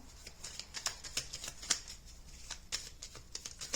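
Whispering Woods Oracle cards being shuffled up close, a steady run of crisp papery flicks and riffles with no voices.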